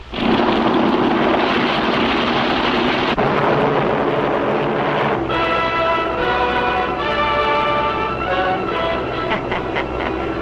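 Giant bomber and fighter planes taking off in a vintage cartoon, a loud continuous engine roar that swells into a higher droning whine with propeller beats, no talk.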